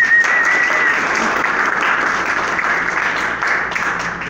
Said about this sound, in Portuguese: Pode vir aqui, Alberto, uma salva de palmas para nós.